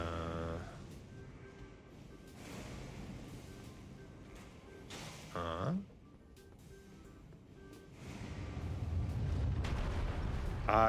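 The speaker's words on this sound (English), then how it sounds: "There's an imp cannon." Cannon blasts from an imp cannon in a fantasy video game boss run, several heavy booming shots spread across the clip with rumbling low end, loud and close.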